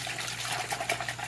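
Water sloshing and splashing as a knitted bag is felted by hand with olive oil soap and water, a steady close-up wash of wet agitation throughout.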